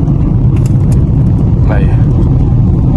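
A Fiat Uno 1.4 accelerates hard on a highway, heard from inside: a loud, close, low engine drone runs steadily throughout, with a brief voice partway through.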